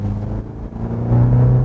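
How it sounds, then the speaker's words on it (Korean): A new BMW 5 Series in sport mode pulls away under throttle, its engine a low rumbling drone that thickens and grows louder in the final half second, heard close from inside the cabin. "스포츠 모드로 바꾸니까 이 엔진음이 약간 더 다이내믹해집니다."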